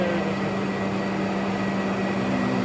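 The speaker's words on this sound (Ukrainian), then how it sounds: "нарізання зубчастих коліс" A gear cutting machine works the teeth of a gear by the generating (hobbing) method in an industrial workshop, giving a steady, loud, humming mechanical drone with no voices.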